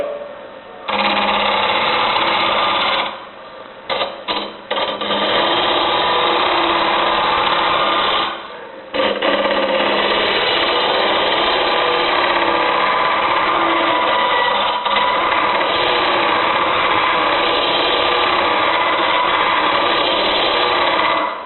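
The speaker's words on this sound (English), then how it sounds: "I'm going to be scraping on the bottom half of the gouge." Wood lathe turning a thick travel mug blank while a gouge scrapes with its lower bevel edge, a steady loud whirring cut that runs almost continuously, broken by a few brief pauses near the start.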